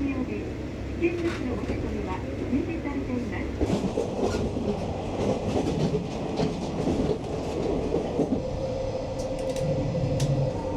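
Steady rumble of a Japanese train carriage running on rails with rhythmic clicking over the tracks, heard from inside, with a voice talking over it.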